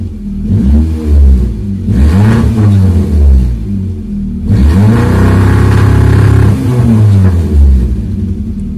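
A Suzuki Baleno hybrid running on gas or petrol revs up loudly several times, each burst of engine rising and falling in pitch, heard close with no talking.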